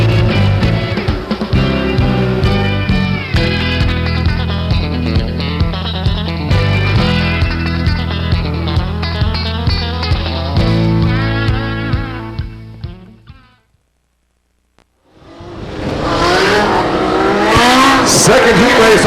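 Race cars roaring around a speedway oval during a heat race, loud sustained engine drone with rising and falling revs for about thirteen seconds, dropping to near silence, then another loud engine surge returning.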